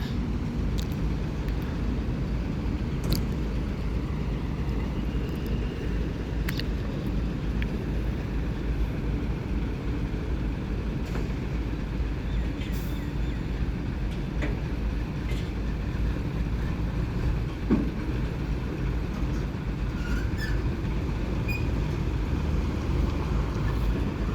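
A car is driven out to be parked outside, a steady low engine rumble with wind buffeting and occasional faint clicks and knocks throughout.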